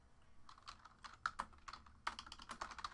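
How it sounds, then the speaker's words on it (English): Rapid clicking of typing on a computer keyboard at a desk, logging hits from a 2018 Leaf Flash football card box break, in uneven bursts with short pauses and no voices. "let's type all these hits in"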